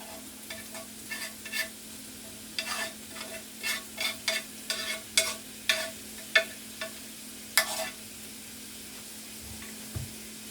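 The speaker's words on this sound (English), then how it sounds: "Okay, we're going to throw in some olive oil. And then we are going to throw in the cabbage." Cabbage fries in olive oil, with a faint sizzle under a rapid series of sharp utensil scrapes and taps against the pan that then trail off.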